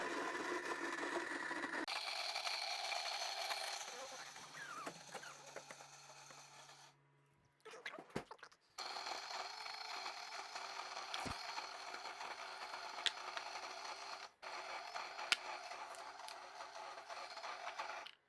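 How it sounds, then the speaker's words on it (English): An Almond Cow plant-based milk maker runs its motor in separate bursts, a steady mechanical whir that stops, pauses briefly, then starts again, fairly quiet and close with no talking. "So I guess it goes through like 3 little motor sessions."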